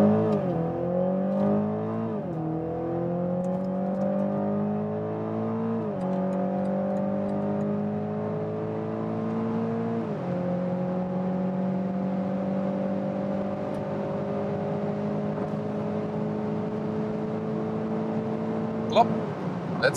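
A BMW Z4 roadster accelerates hard from low speed, engine pitch climbing through several gear changes with a drop at each shift, heard from inside the cabin under a steady road roar.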